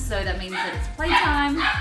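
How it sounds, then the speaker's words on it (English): Puppies barking in short repeated yips through steady, close talking that runs the whole time. "You can hear my puppies barking."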